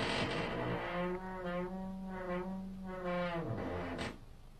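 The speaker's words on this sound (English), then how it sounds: "Bro, you need to put some WD-40 on that damn door" A slowly closing door lets out a long drawn-out creak with a steady groaning pitch that wavers over several seconds, loud and close, then stops with a short knock.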